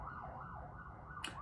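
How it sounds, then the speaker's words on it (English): A siren wails faintly in the distance, its pitch rising and falling, with a brief sharper noise near the end. "I swear there's always sirens when I film."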